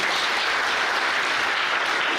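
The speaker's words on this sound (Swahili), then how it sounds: "Pigia yeye makofi" Audience at a Kenyan public gathering breaking into loud, sustained clapping that holds steady from start to finish.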